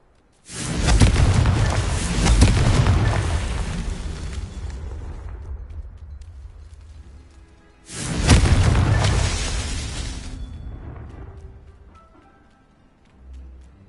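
Two big booming blasts of the Confringo fire spell from the Hogwarts Legacy game, each a loud broadband explosion that rolls off over several seconds, one near the start and one about eight seconds in, with no talk.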